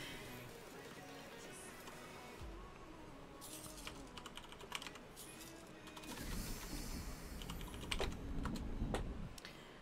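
Steady typing on a computer keyboard, a quick run of small clicks and taps under a busy background of room noise, with louder clattering bursts toward the end.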